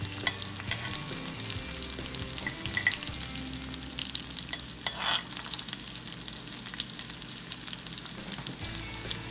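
Green chilies sizzle and fry steadily in hot oil, a continuous crackling hiss broken by occasional utensil stirs and scrapes, close and fairly loud with no talking.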